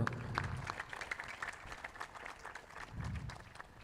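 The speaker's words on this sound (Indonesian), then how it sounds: "beri tepuk tangan yang meriah sekali lagi untuk Pak Putu" An audience at a ceremony claps for Pak Putu after his address. The applause is moderate and uneven, with a few heavier low thumps early and again near the end.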